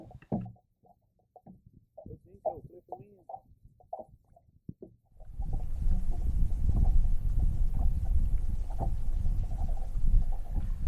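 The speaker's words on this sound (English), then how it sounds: "You can hear the boat slap going on" Water slaps against the hull of a fishing boat: a loud, continuous low choppy thumping and rumble that takes over after a few seconds of quieter voice-like sounds.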